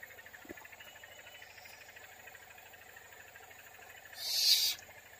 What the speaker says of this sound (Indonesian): ini burung hantu sultan guys